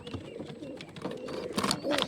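Pigeons coo softly inside a pigeon loft, several low rolling coos close by with faint rustling in the background.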